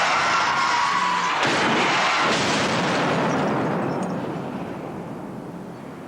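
A powerful explosion blast roars and slowly decays into a long, fading rumble and hiss, loud and close with no speech.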